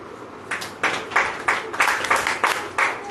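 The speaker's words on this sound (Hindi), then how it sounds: "ताली बजाओ।" A church congregation claps hands together in a roughly steady rhythm, about ten distinct claps sounding moderately close in a room.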